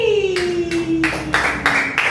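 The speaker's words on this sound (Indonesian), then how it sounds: "Bagus, tepuk tangan dulu buat kelompok Melati." Students in a classroom clap for the Melati group in a handful of short, rhythmic bursts, moderately near, with a brief voice at the start.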